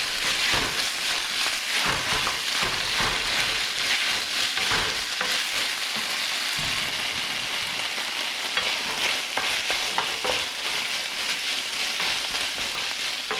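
Beef stir-fries in a hot pan, a loud continuous sizzle broken by scraping and tossing as the pieces are stirred, close and without any voices.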